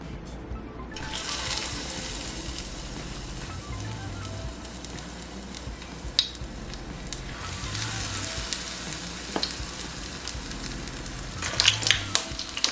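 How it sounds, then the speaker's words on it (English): Batter-coated broccoli florets fry in hot oil with a steady, close sizzle and crackle that runs throughout, swelling in bursts of brighter hiss as pieces go in; no one talks. "take one and just simply dip it into the oil"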